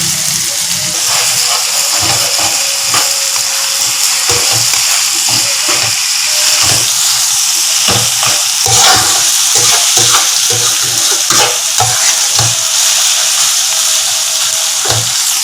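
Ginger and garlic fry in hot oil for mutton biryani, giving a loud, constant sizzle and hiss broken by repeated scraping pulses of stirring.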